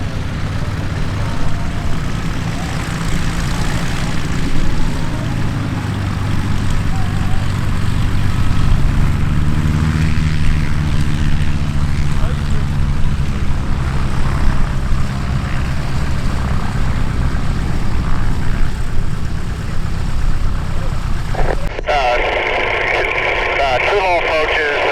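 A light airplane makes a low approach at EAA AirVenture Oshkosh 2019, its steady propeller and engine drone rising and falling under radio chatter and talk, ending in an abrupt noisy shift.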